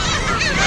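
A large flock of seabirds crowds an island, their honking, goose-like calls merging into a dense, continuous clamour that stays loud and close throughout.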